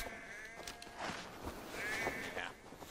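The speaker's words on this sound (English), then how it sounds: "Oh, hello, sheep." A sheep bleats in the Assassin's Creed Valhalla video game, a few short bleats over light footsteps and ambient game sound, moderately near.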